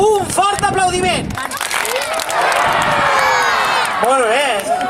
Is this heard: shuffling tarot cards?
no